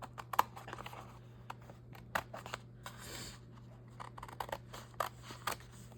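Scissors snip through paper for a French-farm-themed journal in quick, uneven cuts, with soft rustling between them, close and quiet over a low steady hum.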